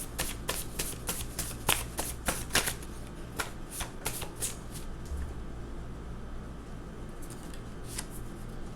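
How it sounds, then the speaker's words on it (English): A deck of cards is shuffled in quick riffling bursts, crisp and close, with the flutter thinning out into a few scattered flicks and then quiet. "I don't know why I keep shuffling."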